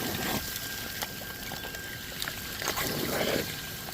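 Water runs fast through a gold sluice at home, a steady close rushing wash with a brief splashier surge near the end.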